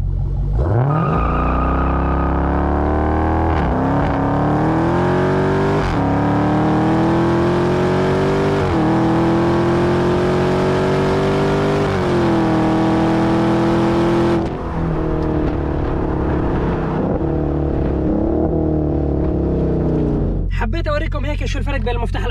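A Dodge Challenger Hellcat accelerates hard, its engine roaring loud and close with pitch climbing steadily through each gear, broken by distinct upshifts before the revs drop and trail off.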